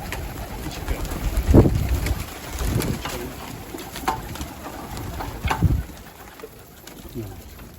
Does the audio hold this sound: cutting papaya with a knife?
no